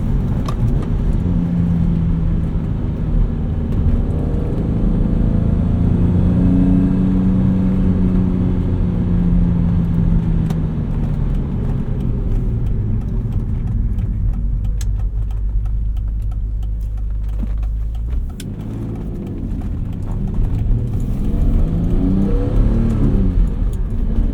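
A 1991 BMW E34 M5 with its 310-horsepower engine pulls hard while driving, a loud, steady engine drone that rises and falls with gear changes, continuous throughout with no talking.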